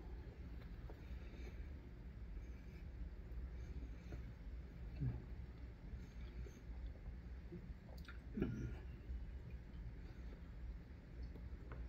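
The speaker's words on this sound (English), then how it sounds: "Let me get a couple more little bites here." Quiet, close-up chewing of bites of a Subway sandwich with cheese and green pepper, soft wet mouth sounds and occasional crunches over a low background rumble.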